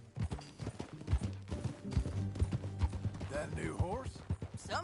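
Clip-clopping hooves keep up a brisk riding rhythm in Red Dead Redemption 2, joined by a short neigh near the end, over a layered game soundtrack.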